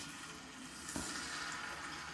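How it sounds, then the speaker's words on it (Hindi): Chicken pieces hitting hot oil on a preheated tawa griddle for Arabic-style steam roast, giving a steady, fairly quiet broadband sizzle with a faint click near the middle and no voices. "हमारा ऑयल गर्म हो चुका है। अभी इसमें हम पीसेस डालेंगे।"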